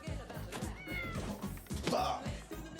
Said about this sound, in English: Cat shouldn't be in fridges.